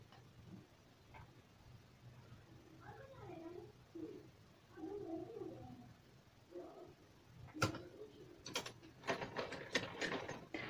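A sewing machine stitches lace made from leftover fabric scraps, starting quiet and then breaking into a rapid, rattling mechanical clatter near the end, with faint tonal sounds in the middle.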